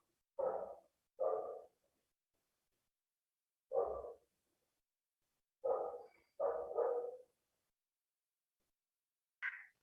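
Sharp, separate dog barks come in small clusters spread over several seconds, some doubled, with no talking, and a brief higher yip at the very end, heard during a physics class.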